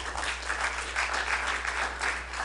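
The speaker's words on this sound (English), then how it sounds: "let's give a round of applause to our Los Angeles Family Church band." Congregation at Los Angeles Family Church applauding the church band, a steady wash of clapping from many hands that swells in gentle waves and carries on throughout.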